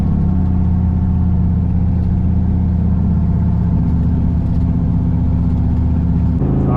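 A turbocharged 5.3 V8 truck engine revs loud and close, holding a steady high-rpm drone before the pitch steps and climbs sharply near the end, with no speech.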